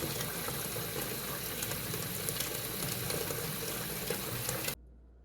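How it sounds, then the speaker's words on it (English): Tap water pours steadily into a kitchen sink to fill it around a pot, a broad continuous rush that stops abruptly near the end. "Take it over to the sink and fill it up until the pot just begins to float."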